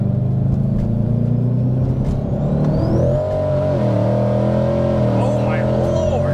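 A twin-turbo 5.0 Mustang rumbles deeply and then revs higher under throttle, heard loudly from inside the car while people talk over the engine.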